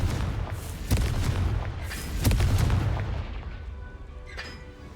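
Spell blasts from the Confringo curse in Hogwarts Legacy, booming in two strong bursts with rumbling decay and a fainter crackle near the end, loud and up close.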